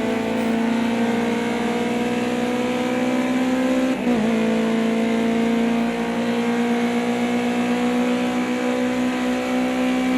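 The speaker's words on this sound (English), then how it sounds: "Not the fastest of cars, the Ginetta, but I do quite like it though." A Ginetta Junior race car on a UK championship practice track, its engine droning loud and steady at high revs throughout, with a brief dip and rise in pitch midway as it shifts.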